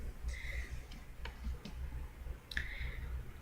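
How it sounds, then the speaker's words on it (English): Scissors snipping excess paper while making a handmade Halloween card: a few short, crisp snips and clicks spaced irregularly, close and fairly quiet over a faint background hum. "I'm just going to cut off the excess with my scissors"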